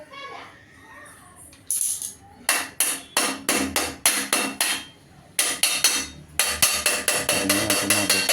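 Light metallic tapping on the top cover of a ceiling fan being removed during home repair, a near series of sharp knocks in quick bursts with short pauses between them.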